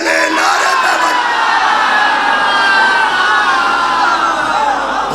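A large crowd roars a slogan back in unison, a loud and sustained mass of voices at close range with no let-up.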